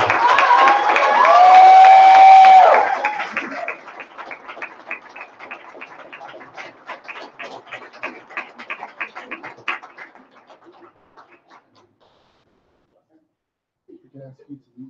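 Applause from a graduation audience for an MFA creative writing graduate, loud and dense for a few seconds, then thinning into scattered claps that fade out, with a brief voice near the end.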